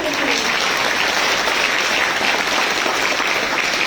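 Dense audience applause at a university opening ceremony fills the whole stretch, steady and loud, like a roomful of people clapping together.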